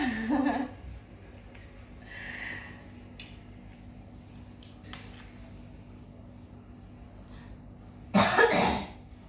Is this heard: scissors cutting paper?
no